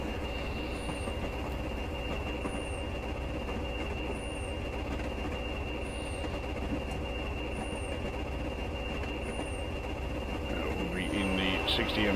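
In the video game Train Simulator Classic, a Class 20 diesel locomotive drones steadily at full throttle, its engine rumble mixed with rolling wheel noise. Faint periodic chirps and a rising hiss come toward the end.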